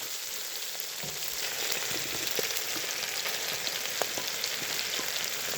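Sliced onions and carrots fry together in a pan with already-cooked mushrooms for a rabbit civet, giving a steady, close sizzle with faint crackles throughout and no talking.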